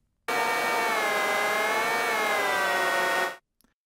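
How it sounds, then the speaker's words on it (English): Synthesized FPV drone sound effect made in Ableton Live: a bright, buzzing, sawtooth-like tone starts abruptly, holds steady and loud for about three seconds, then cuts off, with a faint click after. "I did some sound design to try to make some kind of drone sound effect"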